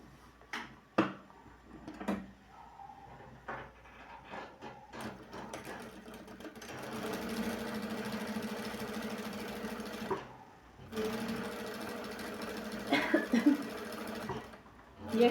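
A sewing machine stitches bias binding onto a patchwork rug, starting with a few separate clicks and short bursts, then running in long steady whirring stretches with a brief pause midway, close and fairly quiet.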